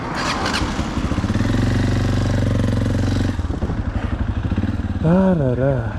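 A CFMOTO NK250 motorcycle engine idles while warming up, a close, steady rumble with an uneven pulse. A brief voice-like warble rises over it near the end.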